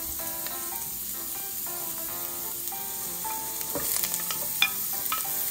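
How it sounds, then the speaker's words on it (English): Garlic sautés in a pan as part of a Dungeness crab dish, giving a steady, close sizzle with a few clinks and scrapes of stirring, and no talking. "We'll saute the garlic."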